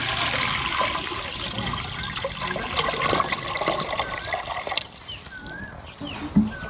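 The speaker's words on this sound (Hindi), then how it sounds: "और पतीली में हम शामिल करेंगे पानी।" Water poured into a cooking pot set on a lit stove outdoors, a continuous splashing gush that fills the vessel before easing into lighter trickles and drips.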